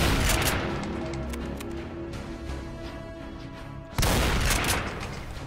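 A BFG weapon fires in the Doom video game, producing a dense, rumbling explosive blast that rolls on for several seconds before a second sharp burst hits loudly near the end.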